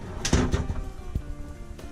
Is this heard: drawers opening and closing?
yes